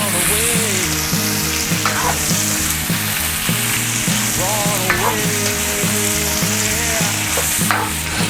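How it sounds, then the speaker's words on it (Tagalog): Boiled beef fries in a pan for a Tausug-style beef kulma, a loud, continuous sizzle with stirring, over steady background music. "So ilagay na natin tong ating pinakuluan na beef."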